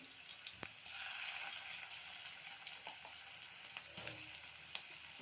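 Onions and ginger-garlic paste fry in hot oil, a steady close sizzle with faint clicks and stirring taps scattered through, no voices.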